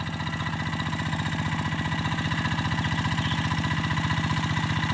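G1000 Boxer hand tractor engine working a rain-fed field, shaping raised beds on slightly sloping ground, with a steady loud close chugging drone and an even rapid pulse throughout.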